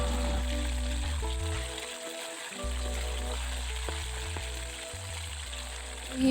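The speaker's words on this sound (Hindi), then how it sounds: "याद रहे कि हमने इन बोटियों को डीप फ्राई करना है" Beef boti pieces deep frying in oil over medium-high heat for a spicy Eid chatkhara dish: a steady, continuous sizzling hiss under background music, moderately loud throughout.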